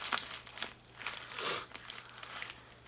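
Small scissors snipping and crinkling through thick plastic packaging around a boxed handbag, quiet and close, with short irregular crunchy cuts and rustles.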